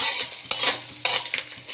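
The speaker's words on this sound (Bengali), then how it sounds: "গোটা রসুন দিয়ে এটাকে আবার একটু ভেজে নেব" Whole ginger pieces and whole garlic cloves fry with cumin seeds in oil in a pan, a close, steady sizzle with sharp stirring scrapes, no talking.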